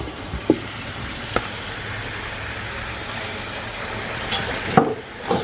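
Chicken frying and being stirred in a pan for an Eid al-Fitr meal, a steady close sizzle throughout with occasional sharp clinks of a utensil against the pan.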